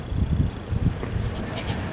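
Pregnant goats bleating at a farm during a vaccination day, loud lowing calls repeating several times over steady background noise, with a person talking nearby.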